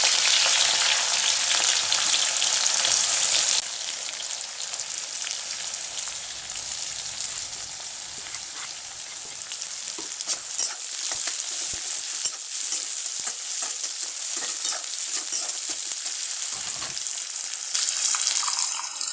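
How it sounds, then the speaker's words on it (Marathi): Green chillies and onion crackle and sizzle in hot oil for potato bhaji, a loud burst at first settling into steady frying with scattered scrapes of a spoon stirring through the pan. "हिरवी मिरची, कांदा असा मोकळा करून टाकायचा"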